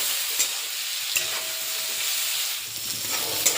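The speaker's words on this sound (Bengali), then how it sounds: "এবার এঁচড়টাকে ভালো করে ভেজে নেব।" Young jackfruit pieces fry in hot oil with turmeric and salt, giving a steady close sizzle with occasional stirring scrapes and crackles throughout, no voices.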